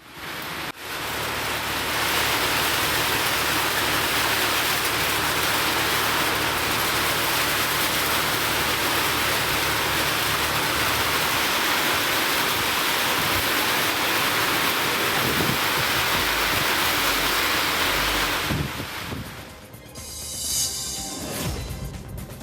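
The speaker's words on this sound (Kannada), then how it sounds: "ಹಾಲುವರ್ತಿ ಸೇರಿದಂತೆ ಹಲವೆಡೆ ಧಾರಾಕಾರ ಮಳೆಯಾಗಿದೆ" Heavy downpour of rain across a flooding district, a dense, loud, steady hiss holding for most of the stretch before dropping away near the end.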